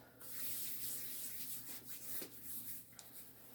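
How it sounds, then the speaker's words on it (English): Hands being washed under a running tap, a steady close hiss of water with soft rubbing and splashing variations throughout, fairly quiet, no talking. "I'm then going to wash my hands"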